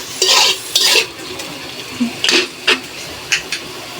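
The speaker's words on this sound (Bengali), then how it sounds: "এখন পেঁয়াজ আর একটু রসুন বাটা দিয়ে দিচ্ছি।" Onion and garlic paste going into a pot and being stirred, heard as several short scraping, clattering bursts of a spoon against the metal pot with quiet gaps between them and no talk.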